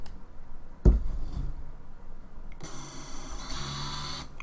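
A small drone motor driven by a 4-in-1 ESC spins up, a close whirring hum lasting about a second near the end after a sharp click and quiet handling sounds.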